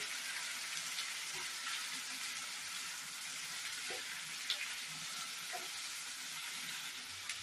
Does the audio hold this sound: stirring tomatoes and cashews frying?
yes